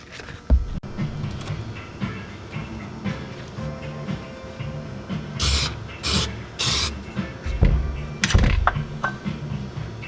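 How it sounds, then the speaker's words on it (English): Aerosol spray applied to a Ford 1700 backhoe part as surface prep before gasket maker, heard as several short, loud bursts of hissing spray over a steady low mechanical hum. "So you spray the surface with this, let it dry, and then you put your seal or your gasket maker on"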